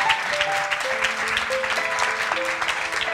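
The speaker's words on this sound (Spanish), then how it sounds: "para él un fuerte aplauso" Festival audience applauding a film director in a theatre, sustained clapping throughout with sustained musical tones running under the crowd noise.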